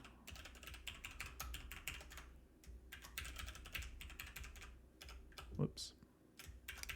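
Someone types a password on a computer keyboard in quick, close bursts of light key clicks with short pauses between, fairly quiet overall.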